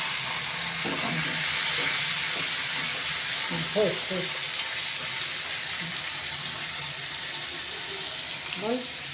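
Cabbage with rohu fish head sizzles in a hot pan with a continuous hiss, while a voice speaks briefly over it.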